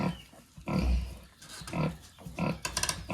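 A KuneKune sow gives a series of low, rhythmic grunts while her piglets nurse, about five soft pulses spaced roughly half a second apart, close by with no talking.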